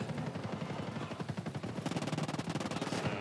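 Scorpion CQB gunfire in Ghost Recon Breakpoint: sustained rapid automatic bursts, moderately distant, that grow sharper and more insistent toward the end over a low game background.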